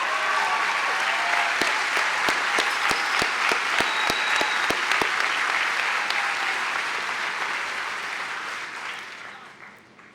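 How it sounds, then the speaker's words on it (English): Audience applauding at a high school graduation ceremony, a large crowd clapping steadily with a run of sharp, evenly spaced loud claps up close, then the applause gradually fades out. "Please rise as we applaud your achievement."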